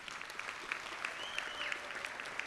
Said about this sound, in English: we'd first like to give a very loud applaud to Vancity volleyball team